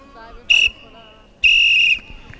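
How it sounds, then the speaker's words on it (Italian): A referee blows a double whistle at half-time of a university cup football match: a short shrill blast followed by a longer one, loud and close. "Duplice fischio"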